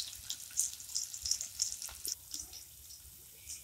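Capsicum frying in a pan for an omelette, a light crackly sizzle with intermittent sharper pops and spits, close by and moderately faint, no voices.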